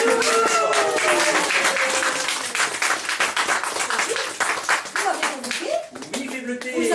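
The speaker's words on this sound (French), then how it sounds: "On l'applaudit." A small audience of children and adults claps enthusiastically at a live show, steady applause fading into scattered claps with some voices and shouts mixed in.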